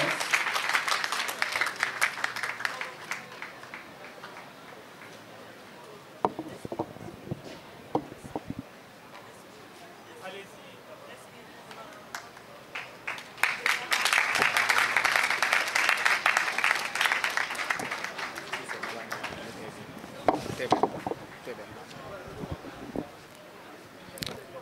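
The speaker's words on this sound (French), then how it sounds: "On applaudit pour l'encouragement." An audience at a student eloquence contest final claps to encourage a speaker, with bursts of applause rising and falling over the stretch, strongest around the middle, and quieter moments of scattered claps between.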